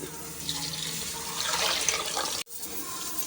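Water runs steadily from a tap into a pot of rice, a close rushing splash that cuts off abruptly near the end.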